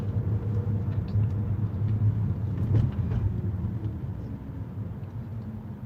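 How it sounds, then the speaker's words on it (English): Steady low rumble of car traffic while stuck in a jam in Chicago, a continuous drone of idling and passing vehicles with a brief swell near the middle, no talking. "Stuck in traffic"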